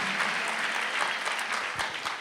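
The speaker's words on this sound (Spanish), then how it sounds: "Démosle un aplauso al Señor" Dense, steady applause from a church congregation at a live Spanish-language family service, loud and continuous throughout.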